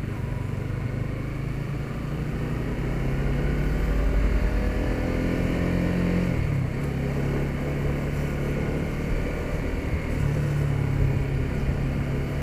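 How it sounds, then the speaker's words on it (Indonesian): A 2021 Honda CBR150R motorcycle cruising at low revs around 3,000–4,000 rpm: a steady, moderate engine hum with rushing wind noise, running evenly for twelve seconds with a slight swell midway and no talking. "Motornya nggak terlalu menderu atau main di RPM tinggi."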